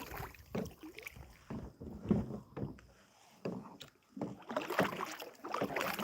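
A kayak is paddled during a fishing outing. Close, uneven paddle strokes splash and swish through the water in irregular bursts, with a brief quiet gap midway and a little wind noise.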